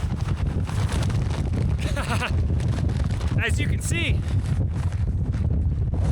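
Heavy wind buffeting the microphone with a constant low roar on a snowy mountain ridge in the High Uintas Wilderness, while a person talks over it.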